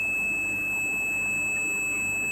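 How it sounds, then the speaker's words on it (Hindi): A multimeter on its continuity range beeps steadily across the two pins of a microwave oven magnetron, one continuous pure tone lasting the whole moment over a soft background hiss. "ये देखिए इस पर बीप आ रही है"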